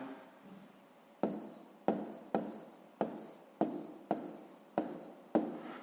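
Pen strokes on paper while a maths solution is written out, a series of about eight crisp scratching bursts at a steady pace, close and fairly quiet, with no talking.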